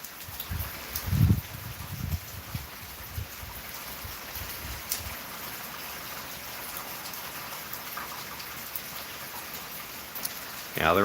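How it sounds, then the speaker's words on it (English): Thunderstorm rain in a yard in East Oklahoma City, a soft, steady patter of drops on surfaces that stays light and even, with a few louder low thumps near the start and a brief sound at the end. "Now the rain keeps tapering."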